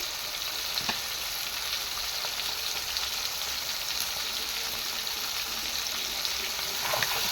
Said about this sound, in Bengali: চিকেন মশলা আর মিট মশলা দিয়ে হচ্ছে মাংসটা ভেজে নিচ্ছে প্রথমে।